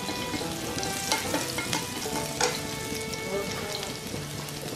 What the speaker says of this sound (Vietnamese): Bây giờ các bạn phi hành thơm lên